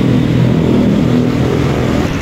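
A Safari Dharma Raya tour bus rolls through Tidar bus terminal in Magelang on a busy morning. Its engine drones loud and close, a steady rumble that holds without a break.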